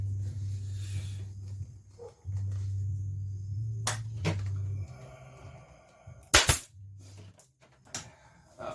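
Pneumatic staple gun driving staples into an ATV seat cover on a Yamaha Blaster 200, a few sharp snapping shots over a low compressor hum that cuts in and out, close by.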